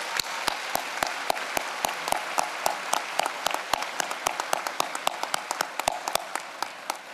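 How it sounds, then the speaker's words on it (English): Scattered applause from a graduation ceremony audience honouring guests on stage, made of distinct sharp individual claps in an uneven rhythm, fairly thin and moderately distant, with no voices over it. "Let's give all these folks a big round of applause."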